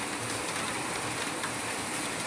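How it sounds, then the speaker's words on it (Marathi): Heavy monsoon downpour in Akola, a dense, even hiss of rain pouring steadily on surfaces nearby, constant and unbroken with no voices. "बघू शकता खूप मुसळधार पाऊस चालू झाला"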